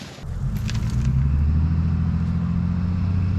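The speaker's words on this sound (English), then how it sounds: "So I'm gonna go put it in 4-wheel, try and pull her a little bit" A 1953 GMC truck engine labors in 4-wheel drive while stuck in mud, a loud steady low rumble that holds throughout after a brief clattering start.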